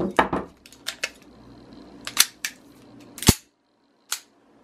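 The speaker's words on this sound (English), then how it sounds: "Trigger presses on both of these." Dry-fire trigger presses on two small revolvers, a series of sharp metallic clicks and snaps at irregular intervals, close and clear against a quiet background.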